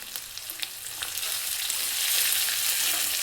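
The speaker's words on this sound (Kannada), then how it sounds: "ಕರಿಬೇವಿನ ಸೊಪ್ಪು ಹಾಕ್ತಾಯಿದ್ದೀನಿ." Curry leaves drop into hot oil for khara pongal and sizzle: a bright, hissing crackle with a few sharp pops at first that swells into steady frying, close up and with no talking.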